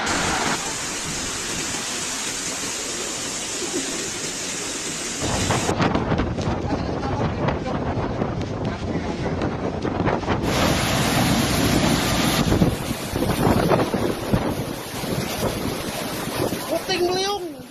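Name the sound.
heavy rain and strong wind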